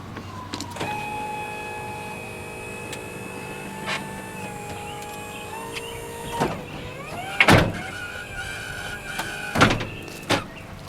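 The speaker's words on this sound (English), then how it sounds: "And now we're going to close the doors." Electric power doors on a Honda Element close with a steady motor whine, ending in several loud thuds and latch clunks near the end, recorded close up with no talking.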